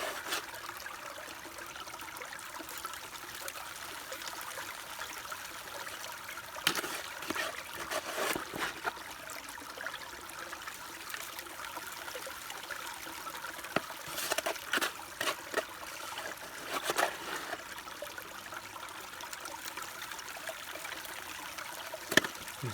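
River water trickles and splashes steadily over bedrock through a gold sluice, a continuous close wash with a few brief louder splashes, no voices.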